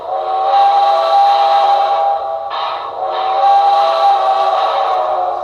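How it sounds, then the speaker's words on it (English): Steam whistle of an Intermountain AC-12 Cab Forward model locomotive, sounding loud and sustained alone in two long blasts with a short break between them. "The whistle, which I've fallen absolutely in love with."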